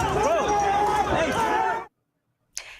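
Loud, close crowd of rioting students at UCLA, overlapping shouting and yelling voices that stop abruptly, followed by silence and a brief burst of noise.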